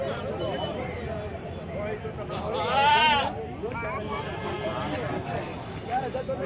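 Goat bleating at a crowded goat market, one prominent cry rising above steady crowd chatter and talk throughout.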